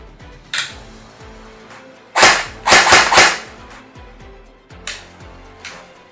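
Airsoft ICS AK74 rifle fired in single-shot mode: a few sharp cracking shots, one near the start and a tight cluster of four or five around the middle, then two more isolated pops, fairly close and loud.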